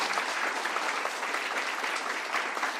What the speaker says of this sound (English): Please give a great big round of applause for these wonderful individuals.